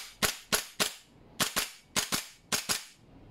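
A G&G Armament MGCR 556 airsoft gas blowback rifle dry fires with no BBs, giving sharp, close mechanical clacks in quick pairs and triplets, about eight in all, with no voices.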